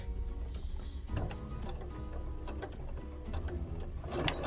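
A domestic sewing machine with a regular foot, stitch length about 2.5, sews quilt pieces in a steady continuous mechanical whir, near and fairly quiet, with small pauses and clicks as it backstitches and pivots at corners.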